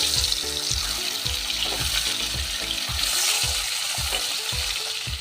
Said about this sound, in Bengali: তেল গরম হয়ে গেছে, এবার একটু নুন ছিটিয়ে আমি মাছগুলো ভেজে নেব।